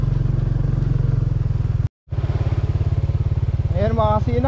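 A motorcycle engine chugs steadily and loudly as it rides through deep floodwater. A brief dropout comes midway, then the throbbing resumes, and a voice speaks over it near the end.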